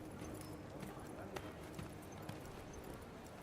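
A player character in Forspoken walks on gravel, each step a soft, steady, crunching patter under a hiss of game ambience, fairly quiet and regular.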